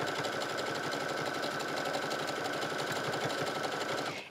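A sewing machine runs a steady zigzag stretch stitch along a garment neckline, a continuous close whirring hum with fast rhythmic needle clatter that slows and stops at the very end, no voices.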